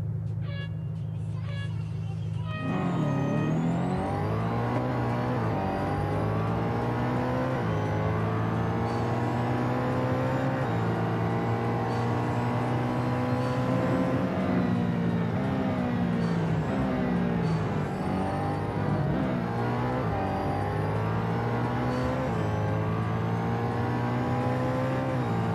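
A Koenigsegg One:1 race car engine in the racing game Real Racing 3 roars continuously and loudly, its pitch sweeping up and down through repeated gear changes over a long stretch.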